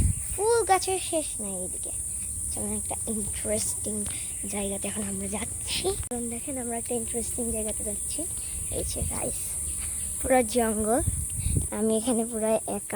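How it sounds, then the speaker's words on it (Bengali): Crickets in a village forest keep up a steady, high chirping drone through the whole stretch, faint beneath someone talking almost continuously. "আর ঝিঝি পোকার ডাক।"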